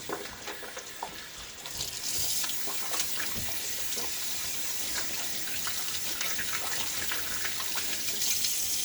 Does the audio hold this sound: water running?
yes